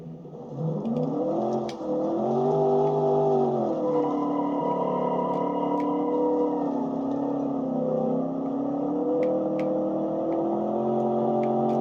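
A pony car, likely in a video game, is driven hard through corners, its engine note rising and falling in loud, sustained revs as it brakes and accelerates, with no talk over it.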